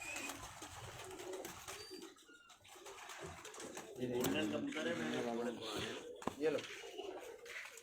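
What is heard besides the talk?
pigeons cooing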